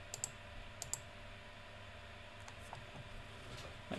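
A few sharp computer mouse clicks, a quick double near the start and another pair just before one second, close and crisp over a faint steady background hiss, with no talking.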